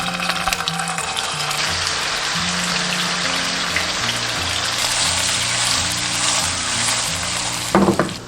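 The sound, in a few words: tofu pan-frying in oil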